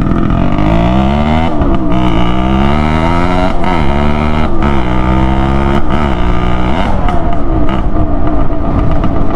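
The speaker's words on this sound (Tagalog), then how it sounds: "pero sana naman maganda yung ating audio kasi maingay ng ating motor" Two-stroke motorcycles, a Suzuki X4 and a Raider 150, ride close by, their loud engines buzzing and revving with repeated throttle rises and drops.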